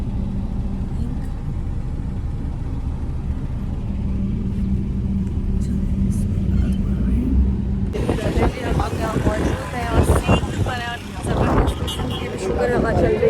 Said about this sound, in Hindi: आतिफ भाई तुम्हें गाड़ी इसी पोजीशन में इसी जगह पे लगानी है, लेकिन गाड़ी का मुंह उधर होना चाहिए